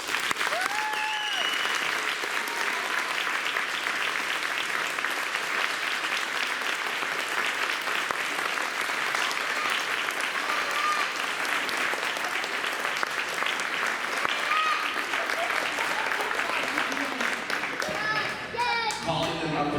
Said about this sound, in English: Let's give them all a hand.